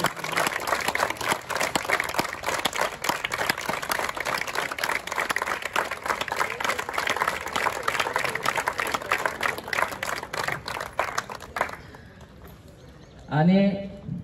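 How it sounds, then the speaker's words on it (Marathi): Audience applause for a 90 km runner at a group training session, steady dense clapping filling about twelve seconds before dying away, followed by a brief burst of voice at the end. "त्या 90 किलोमीटर धावणारे तर जरा टाळ्या सुद्धा तशाच धावा ना"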